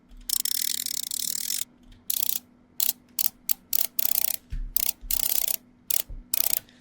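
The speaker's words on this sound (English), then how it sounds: "It's the gear sound effects which we downloaded." Mechanical gear sound effect: a long burst of whirring, clicking gears followed by a rapid series of short ratcheting bursts and stops, crisp and close, with no voices.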